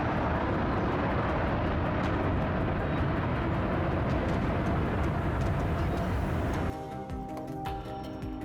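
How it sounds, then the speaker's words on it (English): A plane passes low over the ground with a loud, broad roar that dominates for several seconds, then abruptly drops to a quieter, rumbling tail. "the breathtaking moment the plane flew close to the ground"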